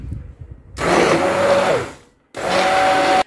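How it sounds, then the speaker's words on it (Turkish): Blender pureeing cooked red lentil soup, two loud whirring bursts close by, the first about a second long and the second shorter, separated by a brief pause. "Şimdi blender'dan çekiyorum."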